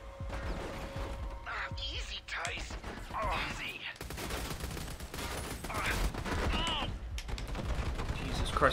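Rapid bursts of gunfire and mechanical clatter fill a firefight in the Army of Two game, with shouting voices over the shooting and crashes.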